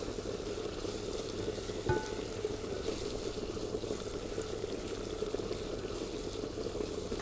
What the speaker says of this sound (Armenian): Թողում ենք մի քիչ տապակվի